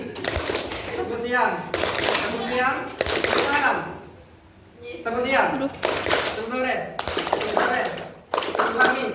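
A group claps in a quick, steady rhythm, loud and close, with voices mixed in and a brief lull partway through, in a junior high school classroom lesson.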